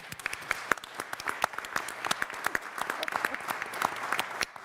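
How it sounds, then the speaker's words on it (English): Applause breaks out at a Cape May city council work session honoring two founding members of the Harriet Tubman Museum of New Jersey, a steady wash of many hands with sharp individual claps standing out, sustained and fairly close throughout. "Can we have a round of applause?"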